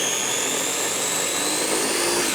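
A small NutriBullet-style chopper whirs steadily and loudly close by, one continuous high-pitched motor drone throughout.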